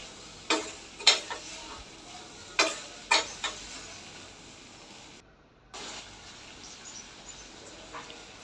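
Drumstick pieces in mustard paste stirred in a cooking pan, a faint sizzle under a handful of sharp utensil scrapes and taps against the pan.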